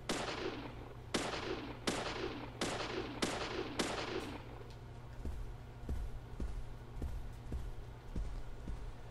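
Gunfire in the video game Deadly Premonition: six loud, sharp shots fire in a fairly steady rhythm over the first few seconds, followed by softer, quicker pops and clicks against a low background hum.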